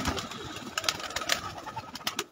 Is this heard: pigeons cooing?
yes